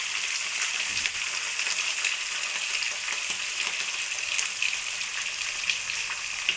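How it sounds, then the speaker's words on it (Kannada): Capsicum sizzles and fries in a hot pan with curry leaves and green chillies while making chitranna, a steady close, dense crackle running without pause and with no voices. "ಕ್ಯಾಪ್ಸಿಕಮ್ ಚೆನ್ನಾಗಿ ಫ್ರೈ ಮಾಡ್ಕೊಳ್ಳೋಣ."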